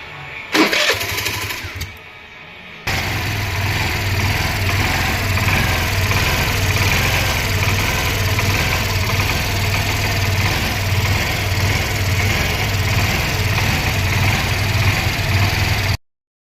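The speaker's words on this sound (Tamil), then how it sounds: "இப்போ வண்டி ஸ்டார்ட் ஆகும்" A Hero BS6 Pleasure Plus scooter with a fuel pump problem: a few faint clicks and a short whir come first, then the engine catches and settles into a loud, steady, close idle that runs until it cuts off.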